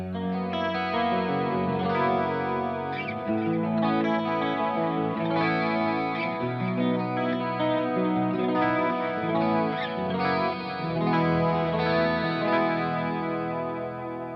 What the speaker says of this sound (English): who plays a clean channel without chorus and delay